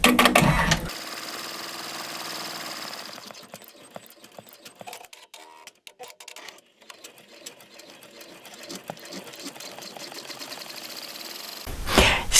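An embroidery machine stitches a design onto a shirt at high speed, a close, steady mechanical whirring and rapid needle clatter that runs continuously after a brief start-up sound and stops near the end.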